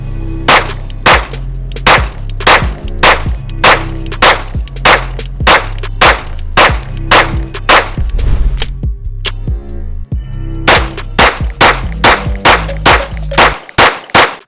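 Rapid string of loud, close pistol shots from a Nomad Defense Nomad9 Glock-style 9mm at a shooting range, fired in steady bursts with brief pauses, each crack sharp and ringing.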